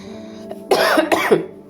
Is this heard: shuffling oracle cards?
no